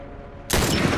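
A sudden burst of gunfire breaks out in The Last of Us, a loud, dense rattle of shots that keeps going after an abrupt start.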